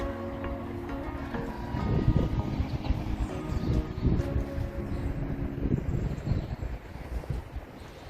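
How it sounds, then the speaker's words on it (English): Chilly wind outside a bike shop, gusty rumbling buffets against the microphone that swell and fade over several seconds, with no one talking. "Beautiful day, although there is quite a chilly wind."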